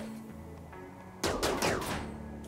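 Turret gunfire in the colony-sim game RimWorld: after a steady background hum, a sudden burst of several rapid, sharp shots rings out near and loud.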